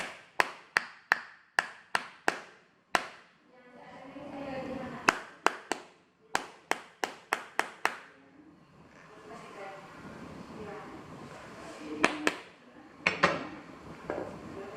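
Sharp hammer blows drive nails into a high heel sandal, coming in quick rhythmic runs of taps with short pauses, close and crisp, while a person talks between the strikes.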